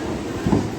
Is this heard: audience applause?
no